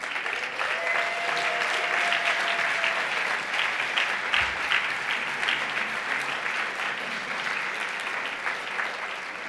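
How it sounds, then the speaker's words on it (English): A room of guests at a leadership awards reception gives a sustained round of applause for a selection committee, dense steady clapping at moderate distance lasting throughout, with a faint voice briefly under it early on. "let's give them a round of applause"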